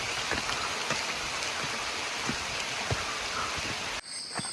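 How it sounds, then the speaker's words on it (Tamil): A sudden shower falls on a forest on the trail to Agasthiyar hill, a dense, steady patter of raindrops on leaves with occasional heavier drips, then an abrupt cut to a thinner sound at the end. "இப்போ பார்த்து திடீர்னு மழை பெய்யுது."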